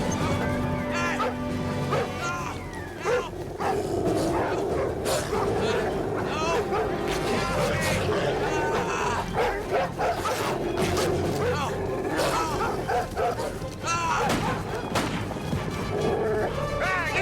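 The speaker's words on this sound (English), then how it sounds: "Wait, I hear something. Sounds like dogs." Dogs bark among a busy, cluttered mix of other noises, with irregular sharp barks and thuds scattered throughout. Voices talk over the commotion, and the whole scene is loud and dense.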